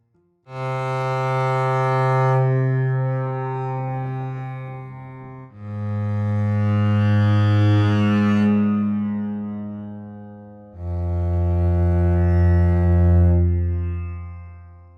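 A deep bowed bass tone from a bazantar, a bowed upright bass with drone strings, swells in three long phrases, each with a rich sustained drone and shimmering overtones ringing above it, loud and resonant with no talking.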